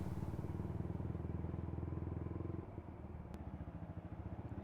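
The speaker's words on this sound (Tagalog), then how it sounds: "Motor ni Ivan." Ivan's motorcycle engine, a Rider 150, idling steadily close by with a low, even throb that shifts slightly partway through, with no voices over it.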